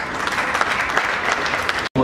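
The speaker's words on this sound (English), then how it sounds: "can we have a huge round of applause for him?" Audience at the Abu Dhabi Week launch event at BKC MMRDA Ground in Mumbai breaks into a big, dense round of applause, steady and loud throughout before cutting off abruptly near the end.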